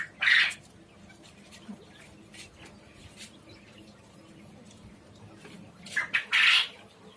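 Quail on a quail farm give two loud, close, squawking bursts, one at the start and one near the end, with faint chirps and rustling in between and no talking.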